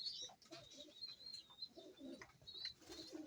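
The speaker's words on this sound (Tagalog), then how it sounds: "Ayan ang ating mga ibon." Pigeons coo softly in a low, repeated rumbling rhythm, with faint chirps and rustling around them at close range.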